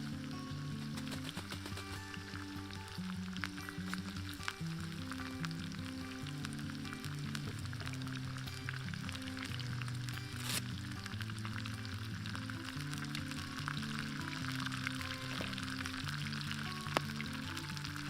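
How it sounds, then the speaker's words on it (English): Bacon, tomato and onion frying in a container over a camp stove during a solo overnight in a pine plantation, a continuous close sizzle under a low steady hum, with no talking. "Sizzle, sizzle."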